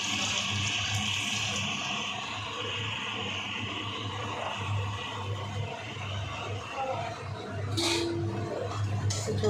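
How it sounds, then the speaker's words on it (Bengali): Water is poured into a pan of lightly fried shrimp for curry, a soft steady splashing close by over a low background hum. "এবার এটাতে জল দেবো।"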